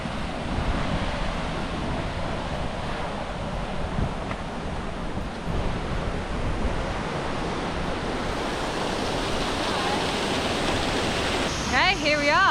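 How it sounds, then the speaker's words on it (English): Aira Force waterfall in the Lake District, a steady broadband roar of falling water that holds evenly throughout, with some wind buffeting the microphone and a brief faint voice near the end. "Okay, here we are, Aira waterfall."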